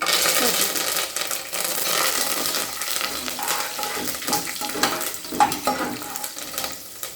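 Dried red chillies and curry leaves fry in hot oil in a pan, a loud close crackling sizzle with bursts of spitting and occasional stirring clinks.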